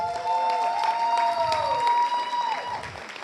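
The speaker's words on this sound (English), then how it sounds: "Please give him a round of applause." Audience applause at a university graduation celebration: a dense wash of clapping from a crowd, with a sustained whistle-like tone rising above it partway through.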